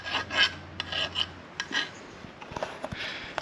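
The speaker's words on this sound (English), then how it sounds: "He's doing the precision filing work." A file works a metal turbo brace in short, scattered rasping strokes with a few light clinks, close but fairly quiet.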